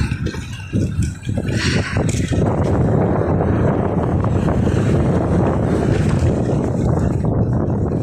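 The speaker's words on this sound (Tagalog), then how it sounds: "Lakas ng hangin" Strong wind roars and buffets the microphone in a loud, steady rush, with gusty low rumbling throughout and no voices, outdoors in Hong Kong.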